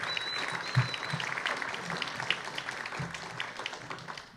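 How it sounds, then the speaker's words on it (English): An audience at a 2024 chamber of commerce candidates forum gives sustained applause, a dense even patter of many hands clapping at moderate volume for several seconds. "Another round of applause for our amazing candidates that we have up here today"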